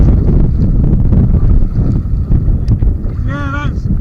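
Landing plane engines near Glasgow Airport send strong wind gusts over the River Clyde, roaring steadily and buffeting the microphone beside sea kayaks. A voice speaks briefly over the noise near the end.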